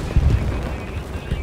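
A deep, booming Tiger H1 tank cannon blast in the video game War Thunder thumps out early, followed by a rumbling low tail and a fainter second boom near the end.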